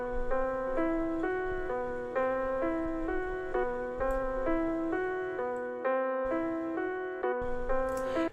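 A piano sample in FL Studio plays a repeating pattern of clear chords in a steady rhythm, heard alone and upfront while being narrowed to mono.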